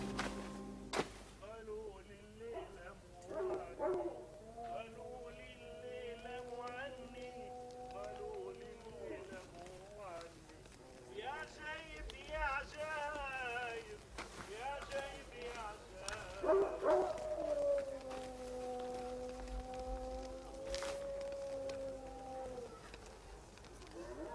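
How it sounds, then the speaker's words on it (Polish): Desert dogs or jackals howl and bark in a night desert camp, long wavering calls overlapping with yips at moderate distance, fairly steady throughout. "Słucham nawoływania zwierząt. Może to psy pustynne, a może szakale."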